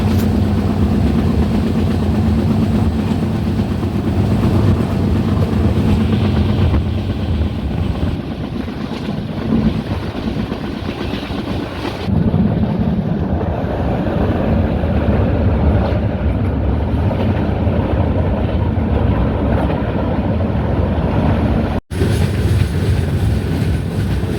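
The Pune–Kanniyakumari Express rolls into Kollam Junction, a loud, continuous rumble with rhythmic clatter of wheels over rail joints, heard close up throughout.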